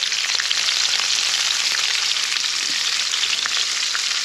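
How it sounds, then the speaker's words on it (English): Asparagus spears frying in a pan of hot oil give off a steady, dense sizzle that holds evenly throughout, close and fairly loud, with faint crackles and no voices. "So next goes the asparagus. So put that in the hot oil, don't burn yourself."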